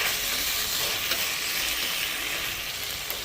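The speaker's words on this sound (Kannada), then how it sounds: "ನೋಡಿ, ಚೆನ್ನಾಗಿ ಎಲ್ಲ ಫ್ರೈ ಆಗಿದೆ." Brahmi chutney ingredients fry in a pan with rock salt, making a loud, continuous close sizzle that holds steady throughout, with faint stirring scrapes underneath and no voices.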